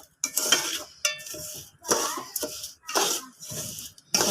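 A spoon scrapes and stirs semolina halwa in a pan in short, repeated rhythmic strokes with brief pauses between them, close and moderately loud.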